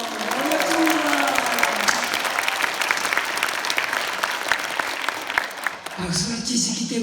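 A talk show audience claps steadily and loudly in a hall, with speaking voices over the applause near the start and the end.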